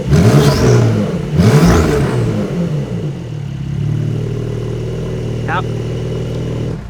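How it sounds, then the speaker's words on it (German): A G-Power tuned Porsche 992 Turbo S revs hard in two loud bursts, then settles into a steady, rumbling idle with a faint turbo whine, while someone speaks briefly over it. "wie du auch direkt einfach gleich richtig schön die Turbos hörst, richtig schön die Lader"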